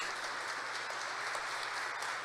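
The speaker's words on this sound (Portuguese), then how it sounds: "Pode dar uma salva de palmas para a videira verdadeira" Church congregation at a Sunday Mass claps together in a steady, dense patter that continues evenly, heard from a moderate distance at modest volume.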